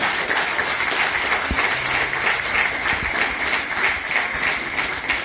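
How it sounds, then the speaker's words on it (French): Sustained audience applause at an eloquence contest in Viry-Châtillon, a dense, steady wash of many hands clapping together, moderately loud and continuous with no talking. "on peut aussi les applaudir"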